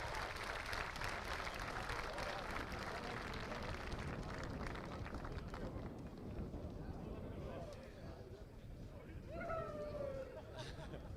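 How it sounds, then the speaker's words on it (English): Crowd applause rings out at an Irish Drift Series Pro2 finals event, a steady wash of clapping and cheering that fills the first half, then thins as crowd chatter and a distant voice carry on. "big round of applause for your rookies"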